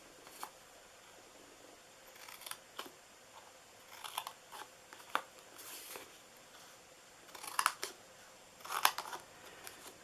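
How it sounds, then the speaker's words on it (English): Scissors cutting card along score lines for a DIY Christmas candy box: quiet, close snips arriving irregularly, some isolated and a few clustered, against a soft background with no talk. "I'm going to go ahead and cut. You're cutting up to the first score line."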